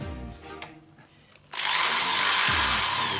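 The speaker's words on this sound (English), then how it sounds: "drill, it helps me a lot, making holes here and the 2 holes over here" A power drill bores holes into an acoustic guitar body for fitting a Fishman Presys 301 pickup, starting after a quieter stretch with a sudden loud, sustained grinding whine that holds steady to the end.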